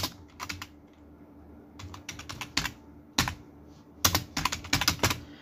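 Clicky typing on a computer keyboard while entering form details, coming in short irregular bursts of keystrokes with brief pauses between, close and fairly quiet.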